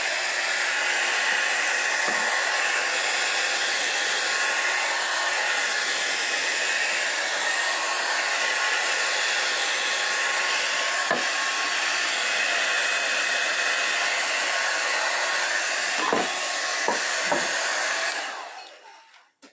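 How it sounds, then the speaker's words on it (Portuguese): A hair dryer blows a loud, steady whir across a wet workpiece being prepared for silver finishing, running continuously with a few faint knocks before cutting off at the end. "Vou secar e vou virar ele de volta pra trabalhar no prateado"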